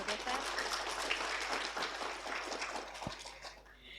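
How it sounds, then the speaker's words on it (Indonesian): An audience applauds at a health seminar on pneumonia prevention for Umrah pilgrims, a steady wash of many hands clapping at moderate distance that fades slightly toward the end. "Boleh kita tepuk tangan untuk Pak Abdul Ghaffar."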